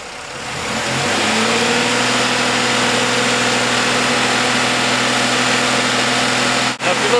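A car engine starts from low idle, then climbs into a steady, loud revving drone that holds high and constant for several seconds, close up, with no talk over it.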